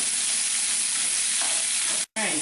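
Peppers and onions fry in a hot pan while being stirred, a loud steady sizzle with scraping movement. It cuts off abruptly near the end, then resumes briefly.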